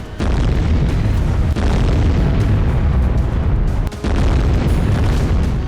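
A continuous loud, rumbling roar of blasts and booming detonations from urban warfare in Gaza fills the whole stretch, dense and close, with one brief dip in the middle.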